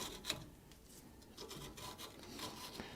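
Stiff rasping strokes of cleaning the threaded shank of a track rod end on a 2007 Ford Ranger 2.5, repeated scrubbing passes close by with no talk.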